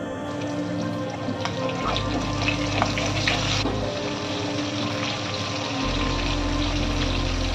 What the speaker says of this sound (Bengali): আমি মাছগুলো গরম তেলে ভেজে নিচ্ছি ভালো করে